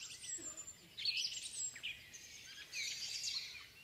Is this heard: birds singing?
yes